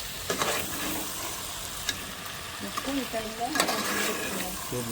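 Chicken and tomato cook on a low flame for chicken curry, a soft, even sizzle with occasional stirring taps while a person talks briefly partway through.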